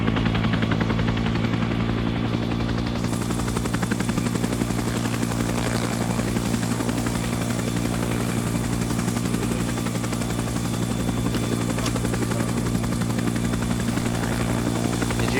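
A military helicopter in a combat game roars steadily and loud throughout, its rotor beating in a dense continuous pulse with engine whine, close and unbroken.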